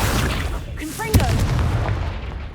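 A Confringo fire spell erupts in Hogwarts Legacy with one sharp boom midway through a steady rumble of combat, with a brief voiced sound just before the blast.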